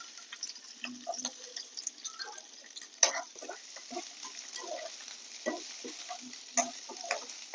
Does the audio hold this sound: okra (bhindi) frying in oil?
yes